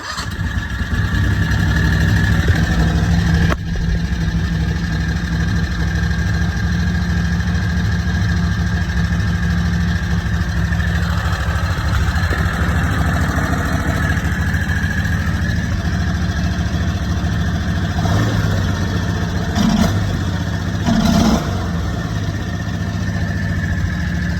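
A V-twin golf cart engine runs steadily at close range, a loud continuous droning hum with only slight shifts in pitch and no voices.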